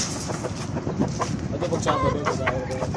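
A ten-month-old DL Grey street-breed brood stag clucking close by, short repeated clucks and throaty calls among other fowl noises, with someone talking intermittently over them.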